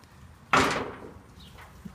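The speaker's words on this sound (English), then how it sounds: "Rear door is a double door." One rear door of a server rack enclosure's lockable double door shuts with a single sharp metallic slam, followed by a short fading rattle in a quiet room.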